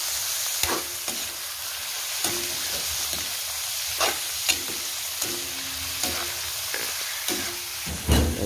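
Native chicken sizzling steadily in a hot pot while a spoon stirs it, scraping and clanking against the pot in irregular close knocks over the constant frying hiss.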